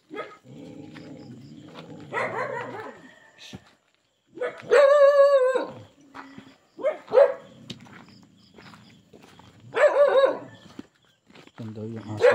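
Several dogs bark in sharp bursts around an old abandoned house in a rural neighbourhood, with gaps between volleys while someone talks and footsteps move through the area.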